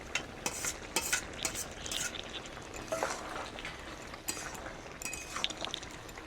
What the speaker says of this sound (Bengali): এবারে দিয়ে দেবো ভাজা চিংড়ি মাছ